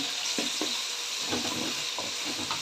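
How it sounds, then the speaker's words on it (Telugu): Onions frying in a pan for an okra masala curry, a steady close sizzle with a few soft stirring scrapes, no talk. "ఇప్పుడు ఇందులోకి మళ్ళీ ఆనియన్ వేసుకున్నాను ఇవి కూడా కొంచెం బాగా వేగనివ్వాలి"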